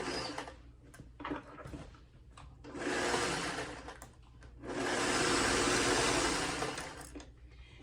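Sewing machine running short back-and-forth back stitches, several whirring bursts of varying length separated by brief pauses, the last and longest run steady and close.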